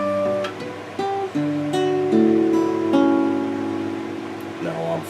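An acoustic guitar picks individual open-string notes that ring and overlap into a sustained chord, with a few further notes afterward, clear and close with no talking over it.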